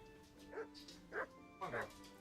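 A small dog in the Kingdom Come: Deliverance video game gives three short, quiet yips or barks spaced about half a second apart, close by, over a soft background hum.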